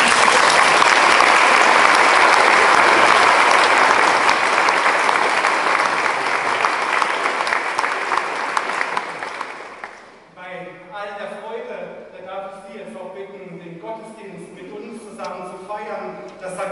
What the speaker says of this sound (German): deswegen wollen wir Sie auch mit einem großen Applaus jetzt